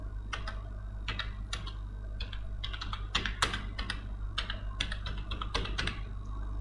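Someone types steadily on a computer keyboard, quick irregular key clicks up close over a constant low electrical hum.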